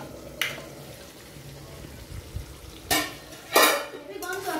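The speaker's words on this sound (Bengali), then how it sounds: "ঢাকা দিয়ে দেবা, এবার ঢাকা দিয়ে দেবো।" Metal clatters and scrapes from a pot of chicken feet curry being handled and covered with a lid, a few sharp clanks standing out over a low kitchen background.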